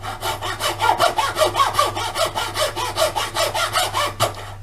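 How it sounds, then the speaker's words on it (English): A sharp hacksaw cuts through scrap wood salvaged from a building site, with steady, close back-and-forth rasping strokes at a brisk, even rhythm, about four per second, stopping just before the end. "and then with a hacksaw, preferably a sharp hacksaw"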